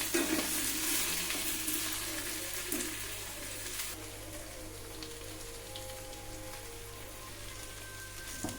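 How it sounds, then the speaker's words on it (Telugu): Cut okra pieces fry on low heat in a pan, a steady soft sizzle heard close, louder and hissier at first then settling into a quieter crackle with faint stirring, without any talking. "బెండకాయ ముక్కలు కట్ చేసుకున్న ముక్కలు కూడా వేసుకున్నాము సిమ్లో పెట్టేసి ఫైవ్ టు టెన్ మినిట్స్ అలా ఉంచేస్తే మన ఫ్రై అనేది రెడీ అయిపోతుంది"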